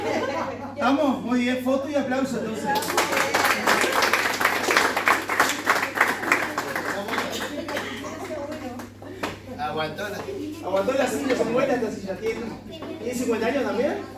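A group bursts into applause during the closing activity of a cooperativism celebration in Tacuarembó, with clapping swelling for several seconds under steady chatter and a few chuckles before voices take over again.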